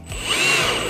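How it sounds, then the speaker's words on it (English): A power drill bores through the plastic ribs on the underside of a Denago Nomad. A loud, steady whine builds quickly and holds for about a second. "I'm drilling through the ribs so I can get a U-bolt in there"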